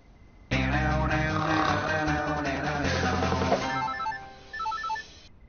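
A telephone rings at night in a home, a loud, tonal electronic ringing that sounds for several seconds and then falls to quieter, broken beeps.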